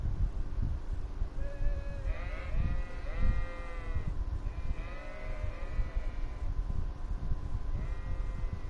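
Sheep in the medieval role-playing game Kingdom Come: Deliverance bleat several times over a few seconds, wavering nasal calls close by, over a low rumbling ambient background.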